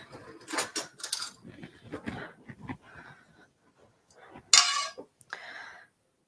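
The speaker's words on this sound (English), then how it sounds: "Let me get a spoon." A spoon is taken from among cutlery while making wreath cookies, giving a few sharp metallic clinks near the end, after a stretch of soft rustling and handling noise.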